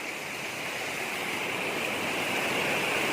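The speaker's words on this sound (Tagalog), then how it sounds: "may kalakasan ang tubig" Strong, rushing stream water pours steadily and loudly throughout, a constant broadband roar with no voices.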